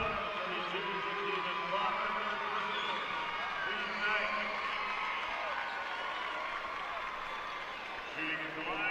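Basketball crowd at a Class 1A boys high school semifinal, a steady roar of cheering and noise filling the gym that eases slightly toward the end.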